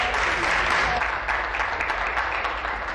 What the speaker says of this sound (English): So give them a welcome and a round of applause